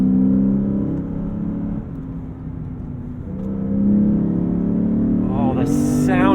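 A 2022 Lexus IS 500 F Sport Performance V8 sedan pulls hard on a curvy road, its engine droning loud and steady, dipping slightly then climbing to a higher-pitched rev at the end.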